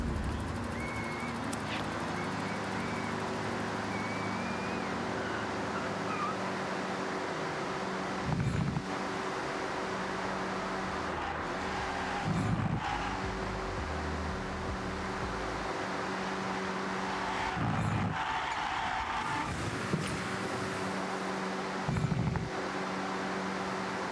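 A 2024 Toyota Prius Prime XSE Premium hybrid drives laps of the Hakubu circuit in Forza Horizon 6, giving a steady droning engine hum with shifting pitch steps and occasional short bursts, and no talking.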